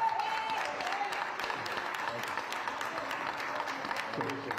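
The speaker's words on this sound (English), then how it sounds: "give Keith Freeman a round of applause at this time" Applause from the audience at a village trustee meeting, a steady wash of clapping lasting several seconds at moderate level with no one speaking.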